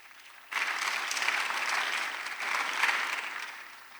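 A church congregation breaks into sudden applause, a dense clapping that swells and holds steady for a few seconds, filling the room.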